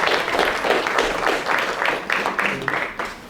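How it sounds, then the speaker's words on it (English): A room of people applauding a homemade cake at a traditional sports workshop gathering, with steady, dense clapping that holds at an even level for several seconds. "We should like applause to Karen"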